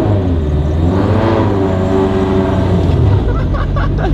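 A turbocharged Toyota FR-S, found abandoned with crunchy brakes, drives in third gear at about 3500 RPM, its engine giving a loud, steady drone that rises slightly in pitch and then eases near the end.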